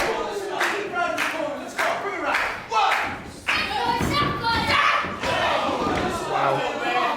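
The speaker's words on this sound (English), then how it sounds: "She's basically swung her around in a circle and then wham! Straight into the turnbuckle" At a Hammerlock Wrestling event, a wrestler swung in a circle crashes into the turnbuckle with heavy thuds and a slam amid a roaring crowd, while commentators talk over the action.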